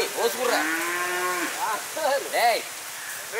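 A bull used in rekla cart racing on a farm in the Kongu region moos several times, loud and close, first one long low call and then shorter, rising and falling lows.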